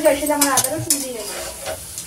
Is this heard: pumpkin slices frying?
yes